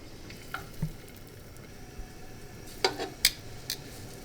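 Shrimp fry in warm olive oil in a pan, giving a faint, soft sizzle, with a few brief clinks and scrapes of a utensil against the pan.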